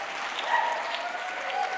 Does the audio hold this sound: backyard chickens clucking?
no